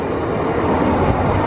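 A train rumbles by close and loud, a steady dense roar filling the short stretch with no voices over it.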